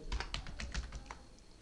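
Quick, light keystrokes on a computer keyboard while entering text in Excel, a short burst of close clicks at low volume with no talking.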